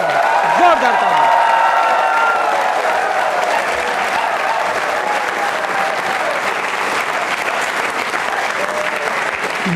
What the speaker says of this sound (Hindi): तालियां बजाइए और उनके सम्मान में जोरदार तरीके से, जोरदार तालियां